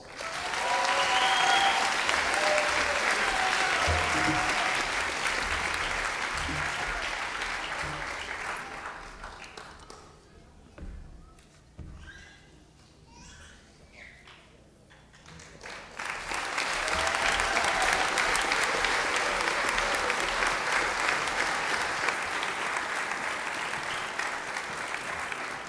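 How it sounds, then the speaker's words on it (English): Loud crowd applause for graduating recruits of the 18th company at an eagle graduation ceremony, sustained for about ten seconds, dropping to a quieter lull, then swelling again into another long burst. "We need to applaud each and every graduate of the 18th company."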